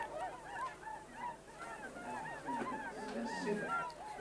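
A flock of wild swans calling at Slimbridge, a chorus of overlapping honking and bugling notes at moderate distance over a soft outdoor background.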